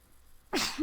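A single sharp human sneeze in a classroom, bursting out suddenly after a stretch of quiet room tone.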